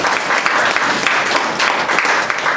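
Dense, lively clapping from an audience at a party chapter launching ceremony in Bristol, many hands at once filling the room steadily and loudly for the whole stretch.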